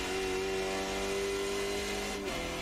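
A low-powered 'skippy' car engine drones steadily at full throttle on a long uphill stretch of the Nürburgring Nordschleife, loud and close, its pitch holding almost flat before easing off near the end.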